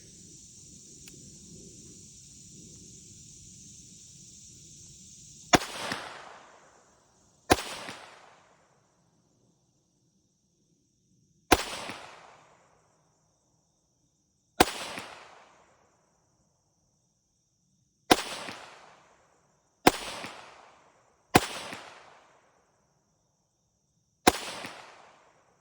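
Eight sharp gunshots from a Kel-Tec CP33 .22 Long Rifle pistol fired at targets, spaced a few seconds apart, each a crisp crack with a short decaying echo, after a stretch of low background hiss.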